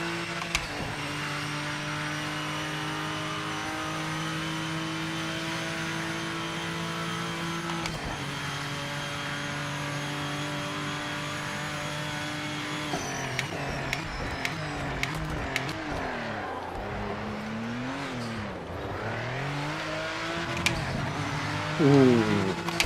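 Race car engine in a racing video game, a sustained high revving tone that shifts pitch with gear changes and throttle, ending in falling and rising sweeps.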